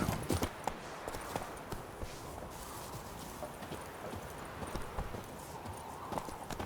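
Horse hooves in The Witcher 3 clip-clop in a steady walking rhythm, with soft, close, repeated clops over a dense background ambience.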